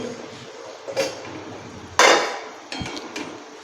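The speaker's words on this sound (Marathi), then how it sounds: "पाच मिनिट झालेले आहेत तर झाकण काढून पाहते" A lid being lifted off a pan of cluster beans cooking over low to medium gas, with a metallic clank, a louder clatter and a few small clinks against a low background, heard close by.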